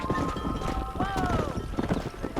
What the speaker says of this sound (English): Easy now. Easy. That's it.